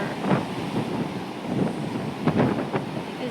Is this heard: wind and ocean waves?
yes